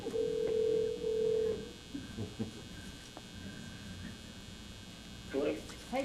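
A telephone tone sounds during a call at a city commission meeting: a steady tone for about a second and a half, then quiet room noise and brief speech.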